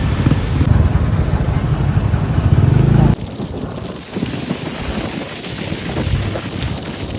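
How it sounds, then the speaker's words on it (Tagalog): Heavy rain roars loudly and steadily, then the downpour thins a little halfway through and carries on as a dense, even hiss. "Lakas ng ulan!"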